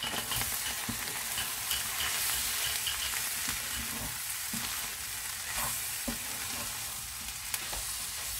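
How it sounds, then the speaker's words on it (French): Almonds being stirred into a simmering chicken-thigh and dried-fruit mixture for pastilla, a steady close sizzle with occasional utensil scrapes and soft knocks, no voices. "je vais rajouter les amandes. Et on va mélanger tout ça."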